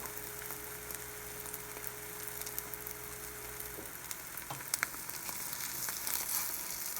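A cheesy omelette frying in a pan gives off a soft, steady sizzle. A faint hum runs beneath it and stops partway through, and a few small clicks and stirring sounds come near the end.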